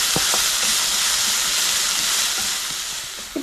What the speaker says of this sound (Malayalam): നമുക്ക് ഇതൊന്ന് പതുക്കെ വഴറ്റാം